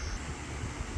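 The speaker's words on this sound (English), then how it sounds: "that noise you hear are my fans" Electric fans run inside a parked SUV during hot Florida weather, giving a steady, faint broadband whir with a low rumble and no other sounds.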